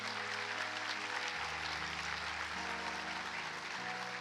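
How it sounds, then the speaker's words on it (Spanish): A crowd applauds steadily and loudly throughout, over a sustained organ or keyboard chord that changes pitch a few times. "Si lo vas a aplaudir, apláudele más fuerte."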